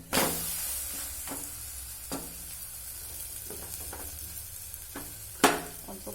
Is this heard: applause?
no